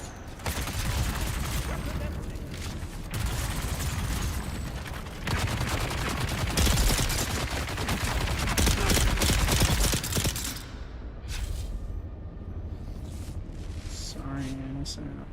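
Gunfire in the game Dune Awakening, dense bursts of rapid shots and automatic fire rolling almost without a break for about ten seconds, then easing off into scattered mechanical clicks and clanks.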